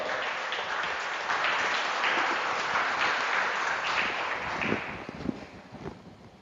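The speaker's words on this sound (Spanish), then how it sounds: "¿Cuántos dan un aplauso al Señor?" A church congregation applauds during a sermon, with sustained crowd clapping over several seconds that thins out toward the end, where a few sharp, louder claps stand out.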